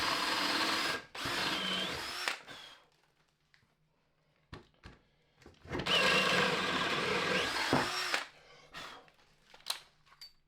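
Two long bursts of a power drill whining into a wooden 2x4 bench leg, drilling about halfway down, separated by pauses with small knocks and handling sounds.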